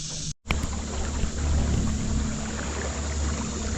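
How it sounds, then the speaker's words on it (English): A jon boat moves along Indian Creek, giving a steady, close wash of water and low rumble after a brief cut at the start, with no voices. "Rowing the boat."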